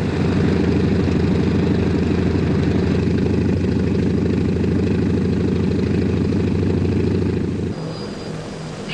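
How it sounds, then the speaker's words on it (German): Engines on Vertol transport helicopters starting up at a 1965 army aviation airfield, a loud steady low engine drone with churning rotor beat that holds for about eight seconds, then drops in level. "Inzwischen werden bei den Transporthubschraubern die Motoren angelassen."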